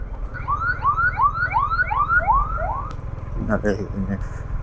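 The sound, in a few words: ambulance siren passing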